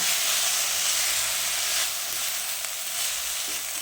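A spoonful of soy sauce hits Schezwan noodles frying in a hot pan, giving a loud, continuous hiss and sizzle that ebbs slightly midway before flaring again, with no voices.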